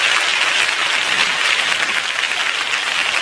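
Audience applause at a live comedy stage show, a dense, loud wash of many hands clapping at once, close and sustained at an even level for the full few seconds, with no voices over it.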